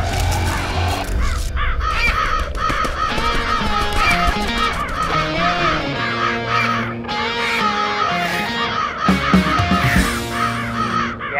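A large flock of kites calls over a city, with loud, shrill cries overlapping continuously and close by. The calls repeat in rapid succession for the whole stretch, with a dense layer of background sound underneath.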